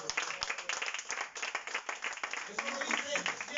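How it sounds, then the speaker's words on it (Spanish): A congregation in a church claps together, a fairly quiet, fast patter of many hands that continues steadily for a few seconds. "Dale un aplauso."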